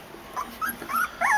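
Two-week-old pit bull puppies from a litter for sale make small, high whimpering yips and squeaky growls, several short rising calls close by and fairly loud, no talking.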